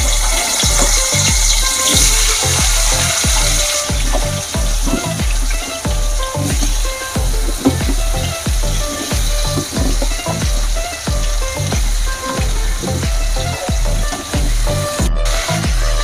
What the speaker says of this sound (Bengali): সবজিটা ভাজা হতে হতে